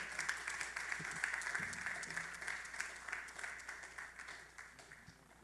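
An audience applauds speakers Nate and Jim with sustained, dense clapping that stays steady and then slowly tapers off near the end, moderately distant and without talk.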